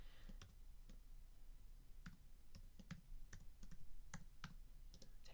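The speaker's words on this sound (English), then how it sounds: "Type in my password." Keys click on a computer keyboard as a password is entered, scattered individual taps at an uneven pace, close but soft over a quiet room hum.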